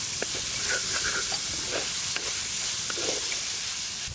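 Sliced onions and curry leaves sizzle in hot oil in a pan, a steady close hiss broken by scraping stirs of a spoon, with no talking.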